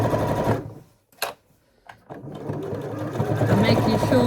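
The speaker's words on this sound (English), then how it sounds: "I'm just going to sew all the way around." A sewing machine stitches around the top edge of a fabric bag, a close, steady mechanical hum that stops briefly and then starts again, while someone talks over it.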